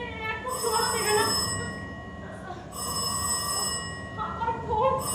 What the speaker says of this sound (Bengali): আমার ফোন